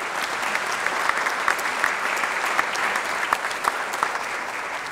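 A round of applause at a small business recognition awards ceremony, steady mid-level clapping from a seated crowd with a few sharper claps standing out, continuing without voices.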